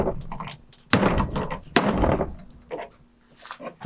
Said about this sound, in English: I'm going to try this to bang out the sleeve from the old shackle.